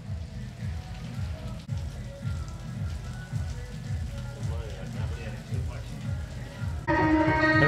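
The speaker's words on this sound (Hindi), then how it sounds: "बारिश तेज हो रही है।" Heavy rain falls on streets during a religious procession, a steady, close hiss over a repeating low rhythmic thumping, swelling louder in the final second.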